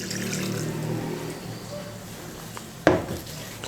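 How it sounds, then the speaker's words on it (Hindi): Water pours from a jug over beef trotters soaking in a vinegar-and-water pot, a steady close splash and trickle that fades, then a short clatter of the vessel near the end. "एक जग और पानी का डालेंगे ताकि पाए इसमें सारे डिप हो जाए।"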